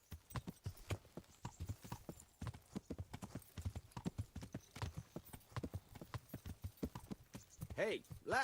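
Horse hooves clip-clop in a steady trotting rhythm in the medieval game Kingdom Come Deliverance, loud and close throughout, with a brief whinny-like burst near the end.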